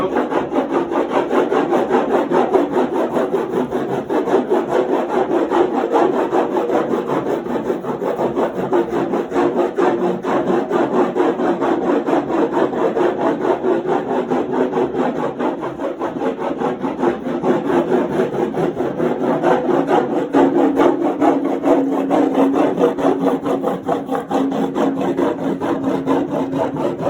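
Surf wax top coat is rubbed onto a surfboard with a continuous close scraping and rubbing texture, rhythmic strokes going on throughout.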